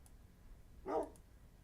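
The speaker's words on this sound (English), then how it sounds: "I got an extra dog in the bargain" A dog in the Minecraft video game gives a single short bark, moderately loud and alone, with a couple of faint clicks around it.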